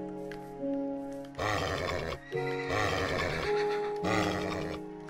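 Horses in the video game Minecraft give repeated loud grunting whinnies and neighs, several bursts in quick succession, close and prominent over a steady background tone.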